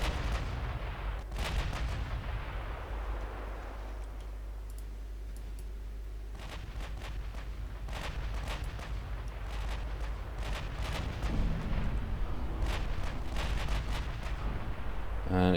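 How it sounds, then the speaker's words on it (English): Secondary naval guns fire in the Ultimate Admiral Dreadnoughts game, a dense run of sharp, overlapping reports and booms over a continuous low rumble, growing busier toward the end. "Let's put the secondary guns to work."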